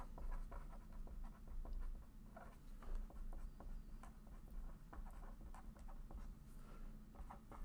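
A pen or pencil writing out calculus on paper, with soft, close scratching strokes and taps in irregular bursts over a low, quiet room hum; nobody speaks.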